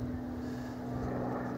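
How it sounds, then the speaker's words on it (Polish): Helicopter flying low overhead above a hillside garden, a steady droning rotor and engine rumble that holds loud and even throughout with no talk. "Helikopter, tak."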